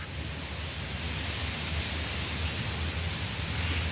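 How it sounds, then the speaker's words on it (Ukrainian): Steady outdoor wind rushing in a continuous broadband wash, loud and unbroken throughout, with no voices. "Тут слухати природу, вітер, пташок."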